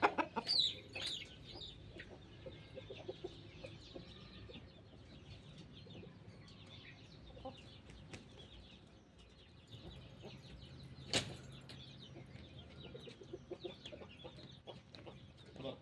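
Chickens cluck softly on a farm, including a hen getting ready to go broody. Low, scattered clucks sit over quiet background noise, with one slightly louder call near the end.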